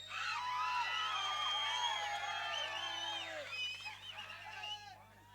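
An audience at an outdoor village drama performance shouts and whoops together in a dense crowd roar that stays loud for several seconds and then thins out toward the end.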